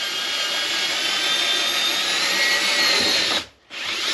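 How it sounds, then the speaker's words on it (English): A power drill bores a new hole during a Mud Busters install on a Can-Am Maverick Sport Max, a loud steady high whine running for over three seconds, briefly cutting out near the end before spinning back up. "I'm gonna be drilling a new hole."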